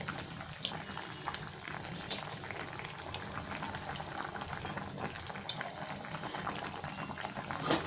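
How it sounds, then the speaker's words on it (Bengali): A Bengali fish curry broth (maacher jhol) with vegetables boils in a pot, giving a soft, steady bubbling and faint simmering crackle at low volume with no voices. "ঝোলটা ভালো ফুটে গেছে, সবজিও সেদ্ধ হয়ে গেছে।"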